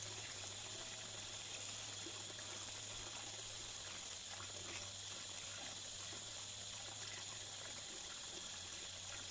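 Water carrying tilapia fingerlings poured slowly out of a plastic bag, a soft continuous trickle and gush heard faintly and steadily throughout without speech.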